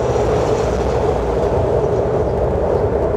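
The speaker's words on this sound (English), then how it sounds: "That train is so loud." A loud train passes close by, a dense, steady rumble and roar of rail cars that stays strong and unbroken from start to finish.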